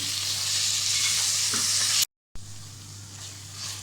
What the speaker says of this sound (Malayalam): ഇതിലേക്ക് പച്ചമുളക് കൂടി ചേർത്ത് കൊടുക്കാം. ഇത് നന്നായി വഴന്ന് വരട്ടെ.